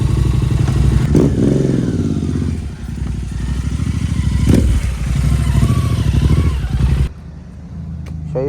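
A motorcycle at India Bike Week in Panchgani runs loud and close with a throbbing idle and brief revs and thumps, then cuts off near the end.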